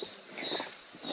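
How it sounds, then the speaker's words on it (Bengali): Crickets and other insects in a jungle in North Bengal's Dooars region keep up a steady, faint high-pitched chirring drone throughout, with no voices. "পোকার ডিফারেন্ট পোকার আওয়াজ"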